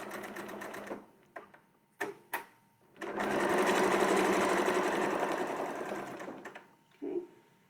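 A sewing machine runs in a sustained burst of rapid stitching while a quilt is sewn along a Westalee template, framed by short stitch bursts and brief pauses before and after.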